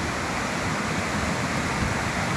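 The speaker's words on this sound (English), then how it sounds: "Reach the top of the waterfall." Steady, dense roar of a waterfall in the mountains near the east coast, flowing early in the rainy season below its full volume; a loud, continuous rush with no pauses and no voices.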